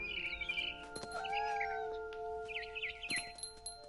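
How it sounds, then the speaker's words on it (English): A barn swallow chirps in What Remains of Edith Finch video game, several high, warbling calls and trills in short bursts over sustained soft game music, with a few sharp clicks between them. "Then I heard chirping outside my window. It was a barn swallow going back to her nest."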